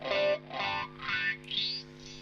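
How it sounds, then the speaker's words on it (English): Guitar through a Boss DD-500 digital delay with a sweeping high-pass filter on the repeats: four loud, evenly spaced phrases whose echoes shift in tone, thinning and rising as the filter sweeps, with no talking. "sweep HPF filter, so a filter delay here. You'll hear the filter applied to the repeats."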